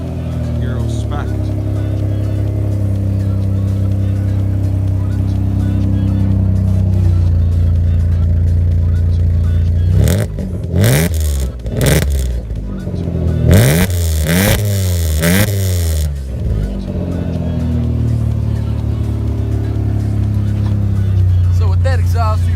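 A 1995 Mazda MX-6 with a straight-pipe exhaust and no catalytic converter idles loudly up close, then is revved hard in several rising and falling bursts before settling back to a steady idle.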